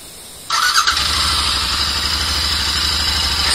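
Royal Enfield Interceptor 650 motorcycle on a cold morning start: a brief starter whine, then the engine catches and settles into a loud, steady idle close by.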